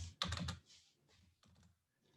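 Notes typed on a computer keyboard during a JavaScript coding lesson: a quick cluster of close key clicks, a pause, then a few lighter taps, with no talking.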